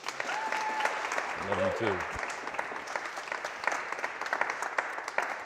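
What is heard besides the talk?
audience applause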